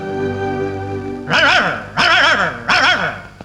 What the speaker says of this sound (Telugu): ఏంటే కుక్క అట్టా చూస్తున్నావు?